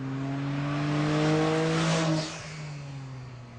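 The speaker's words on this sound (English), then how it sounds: "the lab car is ready for its first ever test drive" A McLaren T25 prototype lab car with a tiny petrol engine drives past, its buzzy engine note rising in pitch and loudness, then dropping lower as it moves away, clear and fairly close.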